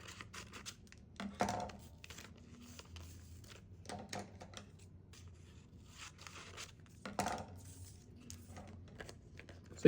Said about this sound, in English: So you're going to trim off just the edge pieces.